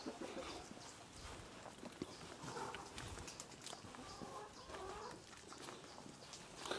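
A rooster and other chickens on a farm, clucking and calling throughout at moderate distance over a steady outdoor background, with no talk.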